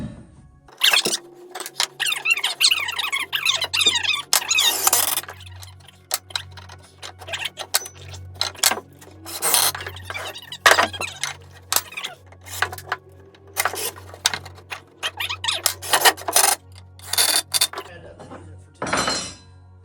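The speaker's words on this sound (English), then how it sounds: "So I'm going to go ahead and get these screws in." A power drill drives screws into a 2x4 workbench frame, running in short whirring bursts that wind up and stop, separated by pauses with small clinks and knocks of handling between runs.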